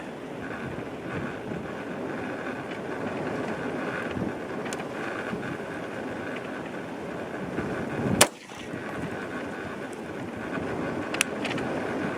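A rifle chambered in 6mm ARC or .243 Win fires at a target 100 yards away outdoors. One sharp, loud crack cuts through steady gusting wind noise, and a fainter pop follows a few seconds later.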